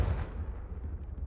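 A Confringo spell explosion in the game Hogwarts Legacy, a single deep booming blast that decays into a low rumbling tail.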